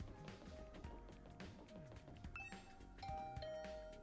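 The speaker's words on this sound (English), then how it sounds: "I rang the doorbell to Tsubasa's room." A two-tone doorbell chime rings in the video game A Hundred Line Defense, a bright ding followed by a dong over a busy background of game music and sound.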